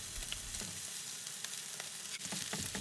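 Cooked rice hits a hot oiled pan for Yangzhou fried rice with shrimp, BBQ pork and eggs, giving a steady close sizzle with a few scraping stirs and no talking.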